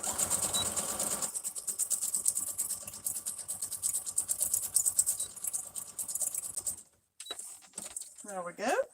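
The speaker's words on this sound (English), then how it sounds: "My sewing machine is like right over here, so I'm just gonna zip." A home sewing machine running a zigzag stitch on a craft project, a steady fast mechanical patter for several seconds that cuts off, then a voice speaks briefly near the end.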